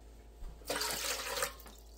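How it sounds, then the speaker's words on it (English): Water pours steadily into the pot of a Ninja Speedi cooker for about a second, a close, fairly quiet splashing stream that starts abruptly and tapers off, with no talking. "But you need to get some water into your Speedi."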